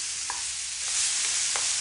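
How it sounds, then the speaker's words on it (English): Meat sears lightly in a hot pan with a steady loud sizzle, while a spoon stirs slowly through it with a few soft scraping strokes. "I just want to stir slowly but thoroughly to give it a light searing."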